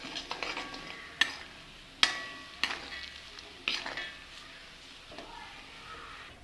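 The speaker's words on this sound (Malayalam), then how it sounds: "ശേഷം മഞ്ഞൾപ്പൊടി ഇടുക, മുളക് പൊടി ആവശ്യത്തിന് ഇടുക, ഇളക്കി എടുക്കുക." Turmeric and chili powder stirred into sesame oil while making mango pickle: quiet, soft frying broken by several sharp spoon taps and scrapes against the pan, with no voices.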